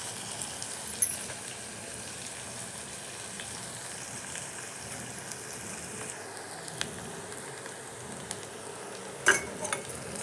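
Onions frying in a pan for a tomato rice dish, a steady soft crackling sizzle running evenly throughout, with a couple of brief clinks near the end.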